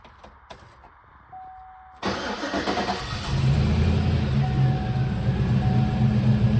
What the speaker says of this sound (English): But I'll fire it up real quick.